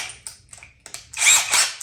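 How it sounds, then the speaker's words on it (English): A cordless drill drives 3-inch screws straight down into wood, with short whirring bursts and then a louder sustained run as a screw sinks in. "2 screws that are 3-inch, and we're gonna just drill them straight down"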